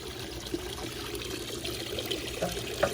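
Water from a solar-powered pump runs steadily down into a sluice, a soft continuous trickle and splash heard close by on its own.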